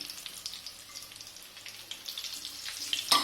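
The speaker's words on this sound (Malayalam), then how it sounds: "ഒരു വശം നന്നായിട്ട് ഫ്രൈ ആയിട്ടുണ്ട്. അപ്പോൾ ഞാൻ മറ്റേ വശം കൂടെ മറച്ചിട്ട് കൊടുത്തിട്ടുണ്ട്." Peanut butter chicken frying in a pan, a steady close sizzle and crackle of hot oil with scattered pops, running alone throughout with a sharper burst at the end.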